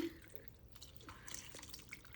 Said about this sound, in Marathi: तर मी आता इथे पाणी ॲड करते